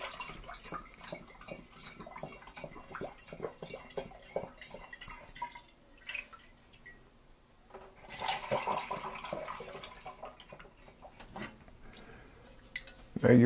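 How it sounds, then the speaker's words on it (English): A mint wine mixture poured and ladled with a dipper into a carboy, with intermittent splashing and trickling liquid, dripping, and light clinks of the dipper against glass, louder pouring toward the end. "using our freshly sanitized dipper here, we're going to go ahead and begin transferring our mint mixture"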